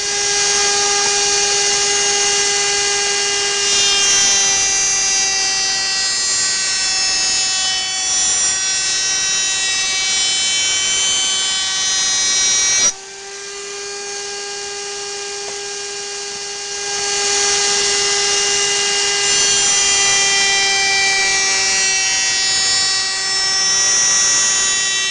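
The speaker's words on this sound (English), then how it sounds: "I just ripped it thinner on the bandsaw" A bandsaw rips a dovetailed wooden piece thinner for a small box, a steady high whine with bright harmonics that dips briefly midway and then resumes, loud and close, with no talk.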